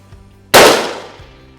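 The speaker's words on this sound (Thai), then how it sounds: "เดี๋ยวนัดนี้จะยิงประมาณปลายขวานนะครับ ถ้าไม่โดนเดี๋ยวยิงใหม่นะครับ" A CZ 457 rifle fires a CCI Maxi Mag .22 WMR round at a steel axe: one sharp, loud crack with a metallic ring that fades over about a second, alone in the quiet.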